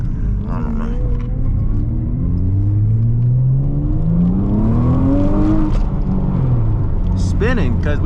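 A Nissan Altima on worn, nearly bald tires spins its wheels as the engine revs up in rising sweeps, loud and close from inside the car, with a voice talking over it.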